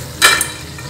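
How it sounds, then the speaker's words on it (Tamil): Kunuku rice fritters deep-frying in hot oil, a short burst of loud sizzling as batter is stirred, then a softer bubbling hiss, close by. "இதே மாதிரி எல்லாமே நம்ம வந்து பொரிச்சு எடுத்துக்கலாம்"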